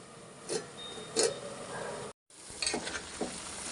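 Brinjal and raw banana fry in a pan, giving soft sizzling with a few louder stirring scrapes and brief pauses, quiet and close.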